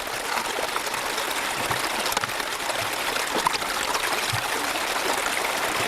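River gravel is washed down through a gold sluice box on the Susan River, giving a steady close rush of flowing, trickling water with faint rattles of small stones throughout.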